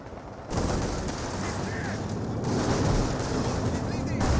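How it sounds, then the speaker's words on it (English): A Firefly tank firing on a Panzer IV in the WWII strategy game Company of Heroes 2, a sudden heavy blast that opens into sustained loud battle din of gunfire and explosions, with a voice commentating over it. "Panzer IV receives 1 hit there from the Firefly."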